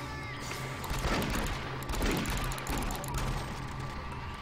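Shotgun blasts and heavy gunfire in the video game DOOM 3, loud repeated booming bursts over a dense, noisy game soundscape, with a voice speaking at times.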